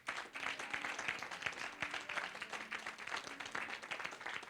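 Audience applause at a testimony gathering, a steady wash of many hands clapping continuously at moderate loudness with no pauses.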